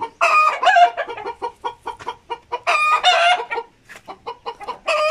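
Egg-laying hens cluck close by in rapid, repeated bursts, loud and busy, with a rooster-like call mixed in.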